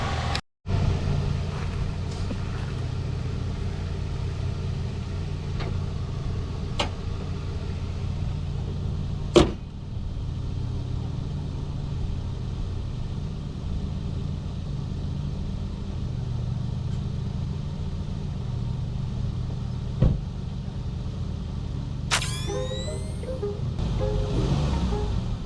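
Engine of a cheap $1000 pickup truck running while being driven around a yard, a steady low rumble that holds throughout, with a few sharp knocks and a brief high whistling squeal near the end.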